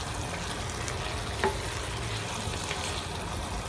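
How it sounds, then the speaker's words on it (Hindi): Chicken being fried and stirred in a kadhai gives a continuous steady sizzle with faint scraping of the stirring, close and even, with one brief louder clink partway through. "ये देखिए हमारा चिकन बहुत अच्छी तरह से भुन रहा है।"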